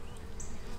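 Honey bees fly around a swarm box at a problematic swarm, making a faint, continuous buzzing hum with a brief sharper whine as one insect passes close.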